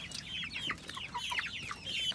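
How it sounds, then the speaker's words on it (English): Chickens cluck and chatter at feeding time, several birds overlapping in quick, uneven bursts, fairly close and moderately loud over a low background rumble. "there were too many chickens in here"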